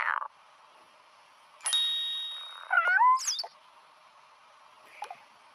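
A cartoon cat in the Toca Life World mobile game gives a short, clear meow among chimes and clanging game effects, set against a quiet background.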